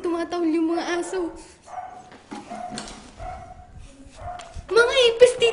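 Dogs whimper and bark in a string of short, high yips and whines, some quiet and some louder, ending in a loud burst of howling cries, near and without talk.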